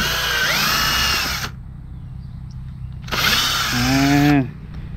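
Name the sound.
drill with auger boring planting holes in soil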